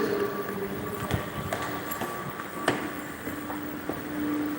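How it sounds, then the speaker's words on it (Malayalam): Low rumbling station ambience with a distant train hum and scattered metallic clacks and knocks, fairly quiet throughout. "ഇതാണ് റെയിൽവേ സ്റ്റേഷൻ"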